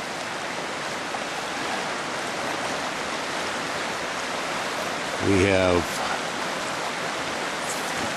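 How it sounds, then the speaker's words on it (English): A creek swollen with snowmelt rushes loudly and steadily at a new prospecting site, its broadband roar filling the whole clip while someone speaks briefly near the end. "4 feet of water running where there was no water before. The creek has widened out to a small river,"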